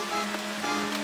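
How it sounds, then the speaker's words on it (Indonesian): Rain falls at a dilapidated hut on a hilltop, a steady close patter of drops on the roof with a faint underlying hum and no voices. "Sekarang keadaan juga hujan."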